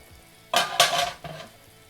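Paneer masala being stirred and fried on a hot dosa griddle: a few quick bursts of sizzling and scraping, close and fairly loud, then fading to a softer sizzle.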